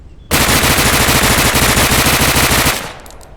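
Full-auto SMG fire from the video game Deadside, one continuous loud burst of rapid evenly spaced shots lasting over two seconds, then a short fading tail.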